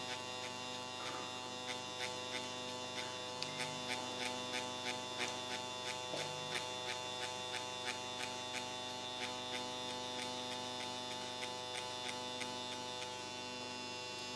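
A tattoo machine needle buzzing against practice latex, a thin steady electric hum with rapid regular ticking pulses running throughout, fairly quiet and close.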